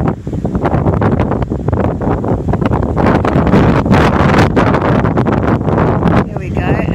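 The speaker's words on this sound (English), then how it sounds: "Probably can't hear me over the wind." Constant heavy wind buffeting the microphone, a loud rumbling roar with gusty bursts throughout, close and dominating the whole clip.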